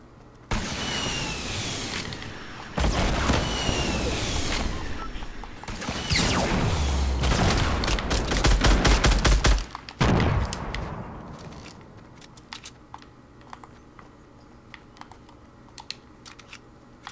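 Fortnite battle gameplay with dense bursts of gunfire and rocket launcher blasts, loud rapid clusters of shots and booms in several waves over the first ten seconds, then quieter scattered clicks and distant shots.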